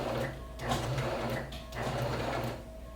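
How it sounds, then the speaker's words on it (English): A home sewing machine runs stitches in place with the stitch length set to zero while a sheet is being made into a robe, giving a steady mechanical whir in short bursts with brief pauses, close and fairly quiet. "I'm going to do a few stitches in place with my stitch length set to 0"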